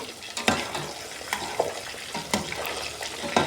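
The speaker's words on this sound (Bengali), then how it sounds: "একদম ডুবা তেলে মাছ ভাজতেছি" Pieces of rohu fish deep-fry in plenty of hot oil, giving a constant bubbling sizzle punctuated by several sharp bursts as the fish is turned or stirred, close and without talk.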